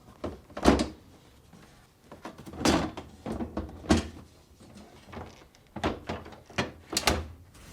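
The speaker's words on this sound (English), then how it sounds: "Now, tilt the front down and position it on the slides." A bottom freezer drawer of a Whirlpool refrigerator is tilted and set onto its slides, giving a series of hollow plastic thunks and knocks with short rattles, several separate bumps spaced a second or two apart.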